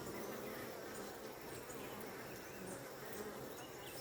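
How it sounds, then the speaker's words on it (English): Honeybees buzz steadily around a hive entrance in October as foragers fly in carrying pollen, a dense continuous hum filling the scene without pause. "You see, bees coming in with pollen constantly."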